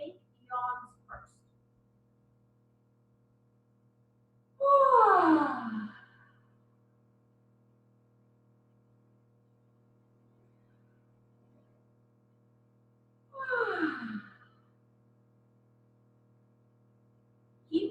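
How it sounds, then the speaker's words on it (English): Participants in an at-home Parkinson's exercise class do loud fake yawns: two long drawn-out yawns with falling pitch, well apart, plus a couple of short vocal bursts at the start, in an otherwise quiet room. "give me a few fake yawns first"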